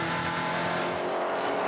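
NZV8 race cars charge through the infield at Manfeild, a steady, loud roar of V8 engines with a pack passing by at a distance, no voices over it.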